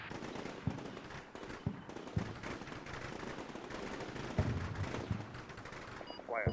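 Artillery shots in a military video game land as a series of irregular booms and cracks over a noisy battlefield backdrop, moderately distant, with radio-style voices calling the fire mission in between.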